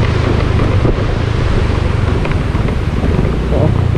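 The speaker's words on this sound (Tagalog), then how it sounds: "lakas ng hangin." Strong wind blows in a remote mountain area, roaring loudly and continuously into the microphone with heavy low rumble throughout.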